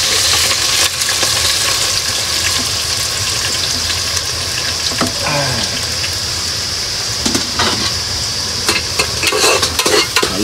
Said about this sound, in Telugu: నూనెలో ఉడికినట్టే ఉడుకుతున్నాయి.